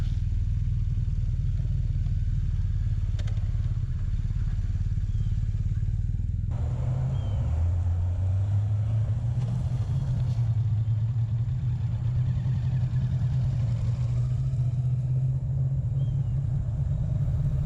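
A 2023 BMW R1250GS motorcycle with ABS doing quick-stop practice, a steady low engine rumble that briefly drops and then climbs again as the rider pulls away, with faint clatter in the background.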